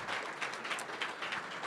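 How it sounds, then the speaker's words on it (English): Soft applause from an audience at a startup community meetup at Atlanta Tech Village, heard as a brief, fairly distant patter of clapping. "Give them a round of applause for every month doing this for us"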